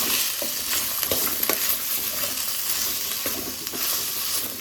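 Tomato, garlic and onion frying in a pan for masala puri, a steady close sizzle with scraping stir strokes and occasional pops throughout, no talking.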